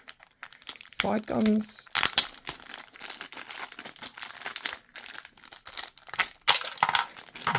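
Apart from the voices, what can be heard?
plastic wrapping crinkling while unboxing a Star Wars AAT toy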